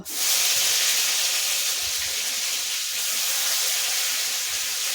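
Bay leaf and five-spice sizzle in hot oil in a pan, giving a loud, steady hiss that runs throughout without a break and with no talking over it.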